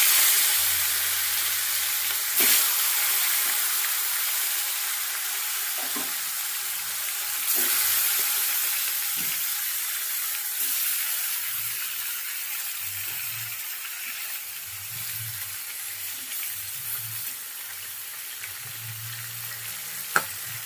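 Tilapia pieces rubbed with turmeric and salt sizzle steadily in hot oil in a wok, a loud, continuous crackling fry with occasional soft low knocks as pieces are added and moved.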